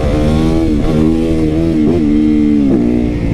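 Suzuki DRZ motorcycle engine revving loudly and close, its pitch rising and dipping in several throttle blips over a continuous roar.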